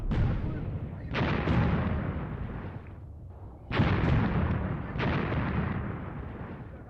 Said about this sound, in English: mortar rounds that are falling just in front of my recce section there